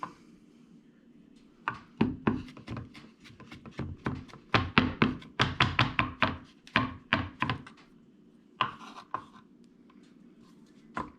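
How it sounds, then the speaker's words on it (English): A knife cuts garlic thin on a board beside a wood cookstove, giving irregular bursts of close, crisp taps and thunks, some quick and clustered, with short pauses between. "I like to cut the garlic nice and thin with the venison."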